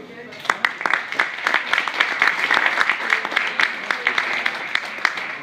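A live audience at a staged event applauds a set decorator, producing dense, sustained clapping with sharp individual claps standing out, loud and continuous for the whole stretch.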